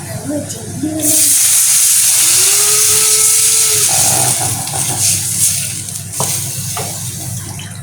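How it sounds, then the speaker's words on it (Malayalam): Tamarind water is poured into a hot pan for a Kollam-style tamarind curry, bursting into a loud, sustained hiss and steamy sizzle that fades slowly, with a voice talking at the start. "ഈ പുളിവെള്ളമില്ലേ നമ്മൾ രസത്തിന് ഒഴിക്കണ പോലെ ആക്കി വെച്ചത് അത് ഒഴിക്കാം"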